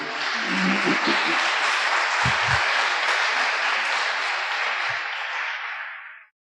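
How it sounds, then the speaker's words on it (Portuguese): A church congregation gives a loud, sustained round of applause during a worship service, with brief low voices near the start, the clapping fading out at the end. "dê um aplauso ao Senhor Jesus"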